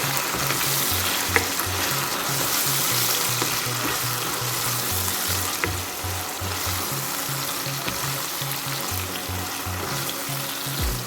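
Chicken afritada with tomato paste sizzles steadily in a pan while a spoon stirs it, a continuous frying hiss over soft rhythmic scraping, close and alone.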